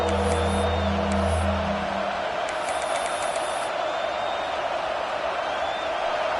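A college football home crowd roars at a Penn State Nittany Lions game, a loud, steady wash of stadium cheering heard from within the stands, while a low hum fades out early and faint whistles cut through.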